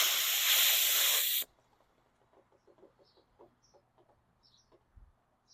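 A loud, steady rush of air hissing from a Ford F150's air suspension as it airs up, cutting off abruptly after about a second and a half, leaving faint background chirps and small knocks.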